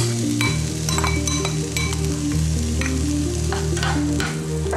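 Finely diced bell peppers sauté in a pan for a veal loaf with squash, giving a steady close sizzle and fry with occasional stirring scrapes and light clinks throughout.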